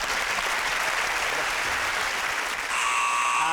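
Game show buzzer sounding time up at the end of a British TV panel show, heard over loud sustained studio applause, with a bright electronic tone entering near the end.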